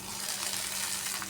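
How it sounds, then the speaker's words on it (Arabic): Rice and onion are turned over in a pot, giving a soft, steady sizzle with faint stirring scrapes. The sound is quiet and brief, with no talk. "وهقلب الرز بالبصل كده"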